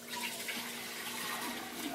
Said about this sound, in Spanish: le voy a poner el agua.